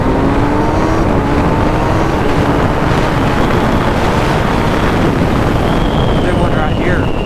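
A 2023 Kawasaki ZX-6R motorcycle engine revs hard, its pitch climbing steadily, buried under loud, constant wind rush.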